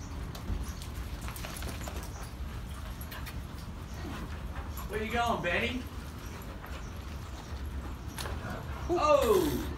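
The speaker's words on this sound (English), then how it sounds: "She's a Millie dog" A dog whimpers and yips in short high-pitched bursts against a steady background hum, with people talking nearby.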